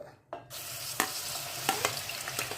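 Onion paste hitting hot sesame oil in a pan for a chicken fry, giving a steady close sizzle with a few sharp clinks of stirring, no voices.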